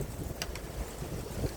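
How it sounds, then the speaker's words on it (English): Gusty wind blows across an outdoor yard, buffeting the microphone with a steady low rumble and a couple of brief hissy bursts. "It's really windy out here today."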